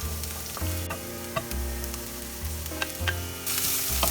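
Onion and cabbage for momo filling fry in a pan over a medium-high flame, giving a continuous sizzle with intermittent stirring scrapes and a low hum underneath.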